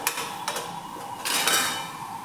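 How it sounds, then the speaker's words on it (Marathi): A metal lid is lifted off a pan of cabbage cooking on the stove, giving a few light clinks and scrapes of metal on metal against a steady background hiss. "इथे मी हे झाकण काढून घेते"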